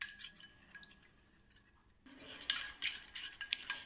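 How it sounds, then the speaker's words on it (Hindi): A spoon mixing a face mask paste with milk in a bowl, soft stirring at first, then sharper close clinks and scrapes of metal against the bowl in quick irregular bursts, with no talk. "अभी हम मिक्स कर लेंगे अच्छे से इसको पहले।"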